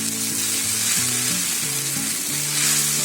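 Mixed vegetables frying and being stirred in a pan, with a constant close sizzle under steady background music and no talk.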